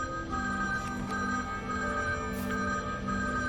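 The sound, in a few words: telephone ringing in video game Mercury Abbey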